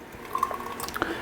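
Singlecut chocolate milk stout beer is poured into a glass indoors, giving soft liquid splashes and dripping sounds at close range over a quiet background.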